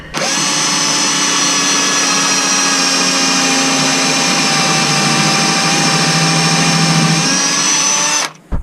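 A power drill whirs loudly and steadily at high speed for several seconds, then winds down and stops.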